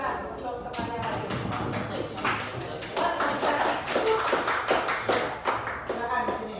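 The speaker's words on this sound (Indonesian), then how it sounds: "yang lain kasih tepuk tangan untuk teman yang lain" Classroom applause for a student presenter: a burst of clapping from many hands, steady and fairly close, with a teacher's voice talking over parts of it.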